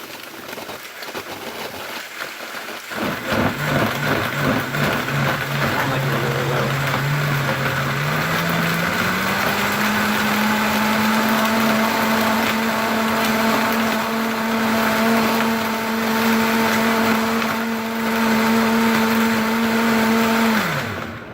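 A kitchen blender whirs loudly and steadily, blending a moringa smoothie with frozen Thompson grapes. The motor kicks in after a few quiet seconds, its pitch rising slightly as the mix smooths, then cuts off near the end.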